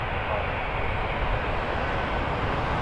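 A Boeing 737 Max 8 airliner bound for Mexico City, departing Toronto Pearson, sends a steady, distant broadband roar of jet engines with a low rumble, continuous and unvarying.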